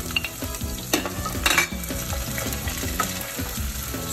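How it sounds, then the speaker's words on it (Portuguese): Onion sizzling and frying in butter in a pan, a constant crackling hiss with occasional scraping and stirring clatter nearby. "Vamos fritar a cebola"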